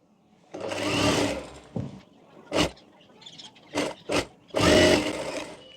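A sewing machine runs in several short bursts, stitching a sleeve onto a blouse, with pauses between the runs. The longer runs come at the start and the end.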